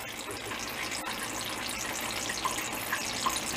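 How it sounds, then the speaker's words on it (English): Liquid drips steadily from a running still, a faint, continuous trickle with a few small distinct drops near the end, heard alone at low level. "back at the still, things are dripping fine"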